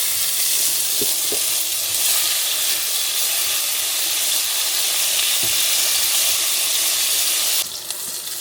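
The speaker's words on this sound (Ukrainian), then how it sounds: "Так, наші шкварочки підрум'янилися, підрум'янимо і цибульку." Loud, steady sizzling and hissing of onions frying in a pan with pork cracklings, with a couple of faint taps, ending in a brief sharp burst of crackle.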